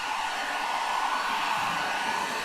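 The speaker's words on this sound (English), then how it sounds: "let's turn this hair dryer on the maximum" A hair dryer run at maximum power from a portable solar generator gives a loud, steady whoosh of blown air with no break or change in pitch, and no voices.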